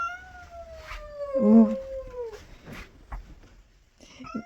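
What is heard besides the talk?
cat yowling to scare off another cat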